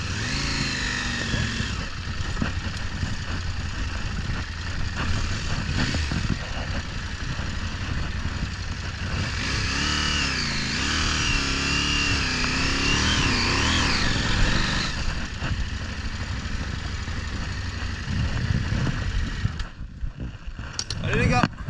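Trail motorcycles ride on a dirt track in the Pyrenees and Bardenas, their engines droning and revving loudly up close, rising and falling in pitch, with voices talking over them.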